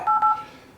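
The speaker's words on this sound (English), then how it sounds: "So I'm going to dial the number here." Two clear keypad tones ring out from a mobile phone being dialed, a short pair of steady beeps close and loud, followed by quiet room tone.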